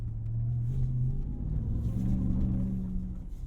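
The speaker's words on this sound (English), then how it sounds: "When you do tap into the throttle in Baja mode, the engine is ready for you." A pickup truck engine in Baja mode rumbles loudly and climbs in pitch as it revs, with a steady low roar that holds throughout.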